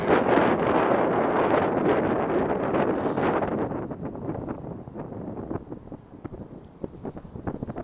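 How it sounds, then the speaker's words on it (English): Heavy wind at a beach buffeting the microphone, a loud rumbling roar that eases slightly partway through but keeps gusting to the end. "Seems very windy right now, so I don't even know if you can hear any of this."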